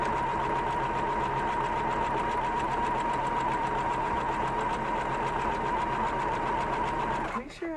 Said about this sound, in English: Reverse stitch.